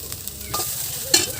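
Mustard greens stir-fried in a pan in a village kitchen give a soft, steady sizzle, with a few brief scraping stirs of the spatula rising above it.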